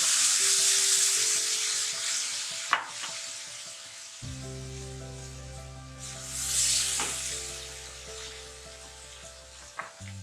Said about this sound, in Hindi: अब ये हमारे पास बटर मेल्ट हो गया, हम इसके अंदर यखनी शामिल कर देंगे।